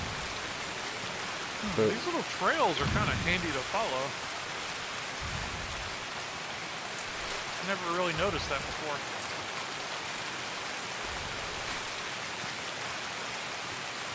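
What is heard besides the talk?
rain in a video game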